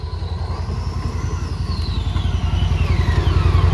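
A CFmoto Cforce 1000 ATV descends in low gear with active descent control off, its engine putting out a steady, rapid, pulsing rumble that grows slightly louder, close and with no talk.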